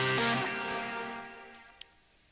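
A music loop played through a moving reverb effect ends in a bright, smeared tail that swells briefly, then slowly fades away over about two seconds, with a small click near the end.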